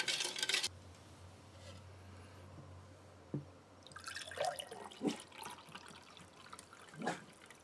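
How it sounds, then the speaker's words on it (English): Raspberry-flavored drink from a Norwegian 24-hour field ration being stirred, giving soft sloshing, dripping and clinking liquid sounds in irregular bursts after a brief louder opening, fairly close and with no talking. "And we'll give this a stir."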